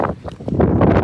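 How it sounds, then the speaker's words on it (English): Brief burst of wind buffeting a microphone, a low rumbling gusty roar throughout the second. "it's very windy"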